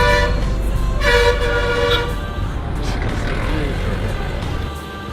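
Horn of a train at Lavinia railway station in Sri Lanka, a sustained loud tonal toot heard close, with a stronger burst around one to two seconds, over busy platform noise and rumble.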